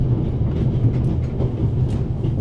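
Rumbling train rolling along rails in the video game Raven Remastered, a steady low clatter of wheels and carriage noise with faint rhythmic clicks, no speech.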